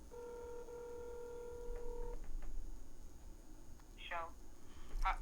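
Phone call tones from a handset held up beneath a microphone: a steady ringback tone lasting about two seconds, then a few short warbling electronic beeps against hissy line noise and faint background murmur.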